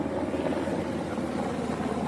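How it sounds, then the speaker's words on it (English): Firefighting helicopter flying over a wildfire near Los Angeles, a steady broadband rotor drone held throughout at fairly close range, with a faint voice partly audible beneath it. "Here's another chopper right here."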